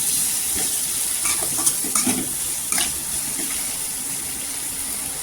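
Asafoetida sautéing in a pan for a spicy dal and potato amti, with a steady broad hiss and a few soft stirring scrapes, close by and without speech.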